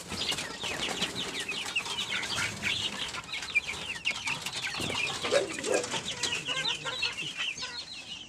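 Racing pigeons and other fowl in a breeder loft keep up steady cooing, clucking and bursts of wing flapping at close range, alongside a faint background chicken or rooster and no talk.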